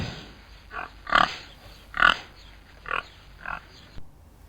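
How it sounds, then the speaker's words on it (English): A pig oinks and grunts in a series of about five short, evenly spaced bursts, fairly loud and close, with no talking, then falling silent. "it's a pig"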